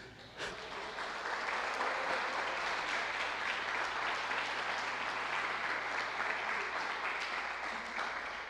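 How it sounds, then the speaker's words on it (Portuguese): Church congregation at a Brazilian evangelical service bursts into applause, a dense, steady wash of many hands clapping that starts quickly and holds at full strength for several seconds, filling the room. "Vamos aplaudir Jesus?"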